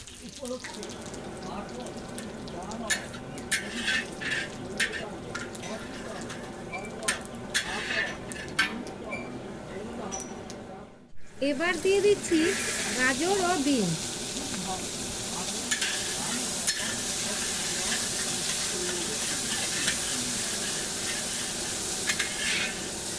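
Cumin seeds, bay leaf and dried chillies are dropped into hot oil in a wok for tempering. After quieter stirring with clinks, a loud steady sizzle bursts up and keeps spitting and crackling close by with no talk.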